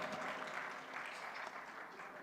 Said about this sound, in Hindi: जोरदार तालियां बनती हैं इस पर।